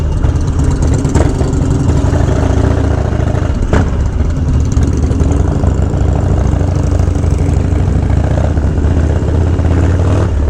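Harley-Davidson Dyna Low Rider S motorcycle running with a loud, deep, steady engine rumble close by, a continuous throbbing drone throughout with no speech.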